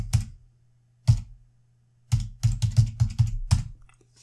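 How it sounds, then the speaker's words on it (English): Keys on a computer keyboard are tapped to enter an IP address: a few isolated clicks, then a quick run of close, crisp keystrokes in an otherwise quiet room. "trying to type the IP."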